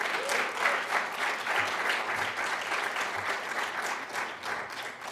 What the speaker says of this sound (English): A round of applause, please, for Governor Rendell